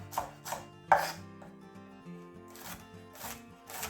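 A knife slicing fresh asparagus thinly on a cutting board, a handful of crisp, close chopping strokes in an uneven rhythm, with no talking.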